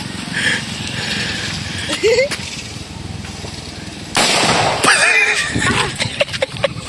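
Homemade boga cannons fire outdoors, with a sudden loud booming blast midway, sharp pops before and after, and people talking and calling out around them.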